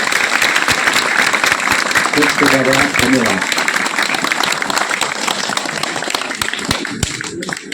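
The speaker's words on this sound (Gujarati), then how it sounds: "તો એક વખત એના માટે જોરદાર તાળી પાડવી જોઈએ." Audience at a school Tulsi puja event applauding loudly, dense rapid clapping from many hands that carries on steadily, with a brief spoken word of thanks heard over it.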